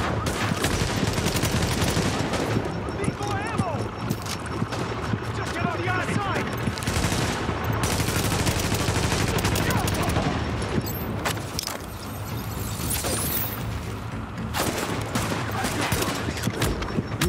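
Dense, continuous gunfire from the video game The Division, rapid automatic bursts and shots layered into a loud, unbroken barrage that runs the full length with only brief lulls.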